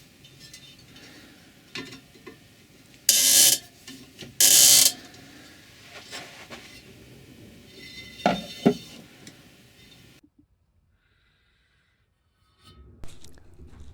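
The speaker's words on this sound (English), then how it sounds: "After some tightening and truing, it's good enough." A spoke wrench tightens spokes on a bicycle wheel rim during truing for a DIY reverse trike, producing close mechanical clicks and ratcheting, two loud grinding bursts, then a near-silent stretch.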